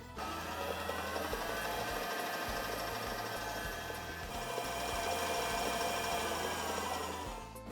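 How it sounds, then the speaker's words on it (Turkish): Electric mixer whipping cold ganache for cupcake frosting, a steady motor whir with beaters churning through the thick mixture, close and continuous throughout. "Ben direkt ganajımı, soğuk ganaj olması önemli, çırpacağım."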